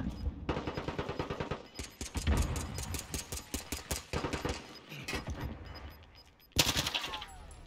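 Rapid automatic gunfire in Modern Warfare (2019), loud bursts of closely spaced shots with brief pauses, then a sharp final blast near the end.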